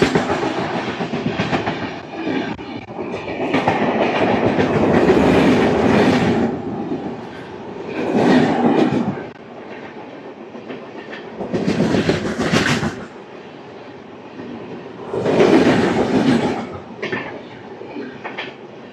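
An express train runs on rails after leaving Moula Ali station, with a loud rhythmic clickety-clack of wheels over rail joints that swells and eases in repeated bursts, and no voices.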